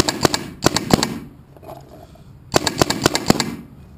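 A mechanical paintball marker fires rapid bursts of shots into a moving blanket catcher, loud and near: a quick string of pops, a brief lull, then another fast volley.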